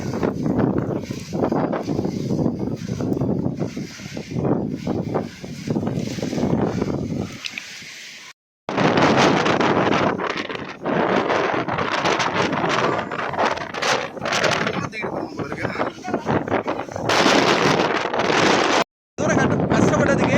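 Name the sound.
strong wind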